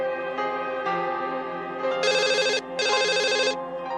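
A telephone rings loudly and close by with an electronic ringtone, steady tonal notes first and then two bright trilling bursts separated by a short gap, with no one talking.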